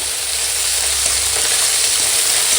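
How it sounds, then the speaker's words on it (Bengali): Chopped onion and torn green chili fry in hot oil in a pan, giving a loud, continuous, even sizzle with no pauses and no voices. "ওই তেলে এখন দিয়ে দিচ্ছি পেঁয়াজ কুচো কাঁচা লঙ্কা ছেঁড়া দিয়ে ভালো করে ভেজে নেব"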